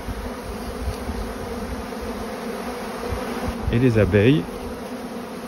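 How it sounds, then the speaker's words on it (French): Honey bees buzz steadily around stacked honey supers set out in an open field, a dense droning swarm that swells louder and closer for a moment near the end; a brief voice is heard. "les abeilles sont occupées. Là, ça fait du monde."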